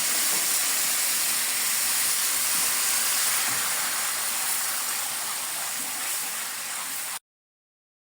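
Broth poured into a hot pot of rice sets off a loud, continuous hiss of steam and bubbling that holds steady for about seven seconds, then cuts off abruptly.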